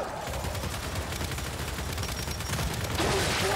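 Sustained gunfire in Gears of War 5 comes as rapid automatic bursts, steady and fairly loud, with a brief voice over the top.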